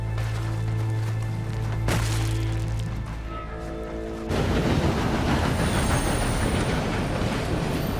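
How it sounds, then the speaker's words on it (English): A train in Red Dead Online thunders past overhead, a loud rumbling, clattering roar that builds abruptly partway through and continues steadily to the end. "I thought you were gonna let that train ride right over us"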